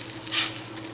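Grilled cheese sandwich made with focaccia sizzling steadily in a hot pan just after being flipped, a close, continuous hiss and crackle without any voices.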